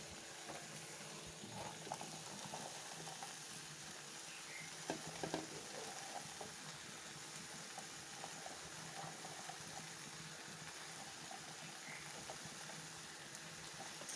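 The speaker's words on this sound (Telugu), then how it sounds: "సో ఇప్పుడు ఏం వేయాలంటే మనం కాలీఫ్లవర్ వేసేసుకుందాం" Cauliflower frying in a pan for a curry, giving a steady, dense sizzle and crackle that continues throughout with a few faint stirring knocks.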